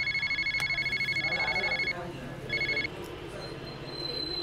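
A telephone rings again in a repeated electronic trill, loud and close, in two bursts separated by a short gap, while people talk over and after it.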